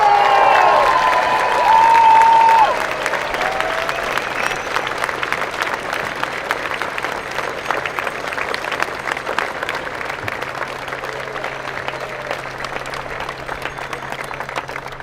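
Crowd applause at an Invasion Day 2019 gathering after a welcome speech, a dense sustained clapping that carries on steadily for the whole stretch, with a louder opening burst and brief voices early on.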